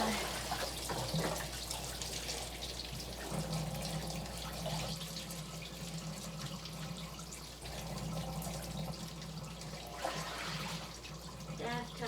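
Bathtub water draining after hair is cleared from the filter, a steady close rush and gurgle of flowing water with faint drips, continuous throughout.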